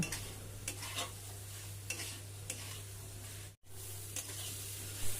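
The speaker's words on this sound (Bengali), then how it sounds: "এই সময় এর মধ্যে দিয়ে দেব ধুয়ে রাখা চাল আর ডাল চাল ডালটা মশলাতে কষিয়ে নেব" Washed rice and dal being stirred into spice paste for khichuri, soft rhythmic scraping strokes in a pot over a quiet sizzle and a steady background hum, with a brief dropout midway.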